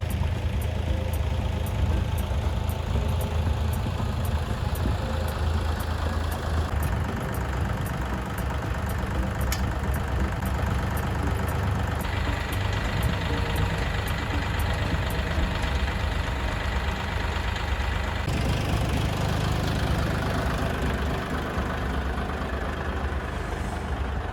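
A heavy diesel engine idles steadily and loudly nearby, a constant low rumble with a faint rhythmic ticking running through it, no talking.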